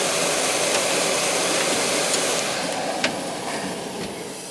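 An air conditioning unit that was missing parts and has loose screws runs with a steady, loud broadband whoosh throughout. A faint click lands near the three-second mark.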